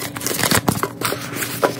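Close, brisk rustling and flicking of paper envelopes being shuffled together, a series of quick papery swipes and taps.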